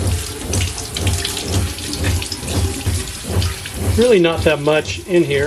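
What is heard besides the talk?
rinsing kelp out of a boat engine sea strainer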